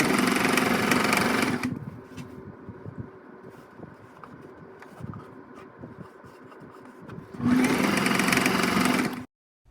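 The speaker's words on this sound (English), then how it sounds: "I'm hemming the bottom part of the top layer. I don't have a serger or edger, so I'm hemming the edge for a clean finish." A sewing machine hemming the bottom edge of a skirt's top layer, starting with a loud fast whirring run, pausing to quieter handling noises, then another short burst of rapid stitching before stopping.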